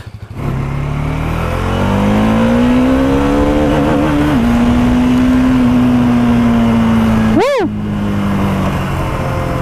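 A Bajaj Dominar 400 motorcycle engine revs up while riding, climbing to a loud, close, sustained drone that holds steady, then briefly spikes in a sharp rising rev near the end before settling back.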